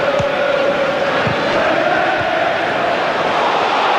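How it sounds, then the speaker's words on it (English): A football stadium crowd rises and cheers during a Tottenham versus Manchester United League Cup quarter final, a broad, loud roar filling the whole stretch with occasional thumps beneath it. "The crowd rise"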